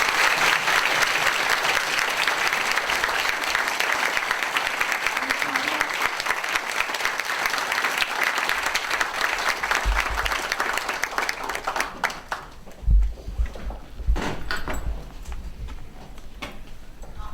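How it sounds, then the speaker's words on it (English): An audience applauds a guest speaker at an annual speaker event on North Korean human rights, a steady dense round of clapping that carries for about twelve seconds before thinning into scattered claps and room noise. "Please give Ms. Shin another warm round of applause"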